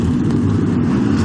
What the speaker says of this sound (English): The cars are now rolling off the track.